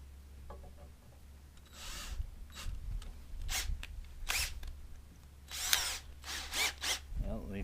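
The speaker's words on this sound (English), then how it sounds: "Going to get a couple of those mounting holes drilled in." A power drill bores mounting holes for a trolling motor on a C-Dory 22 boat, firing in several short, bright bursts separated by quiet pauses.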